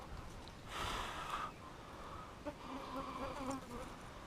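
Flies buzzing close around an outdoor dam while yabbies are being pulled from nets, a steady insect drone with louder passes as they swoop near the microphone.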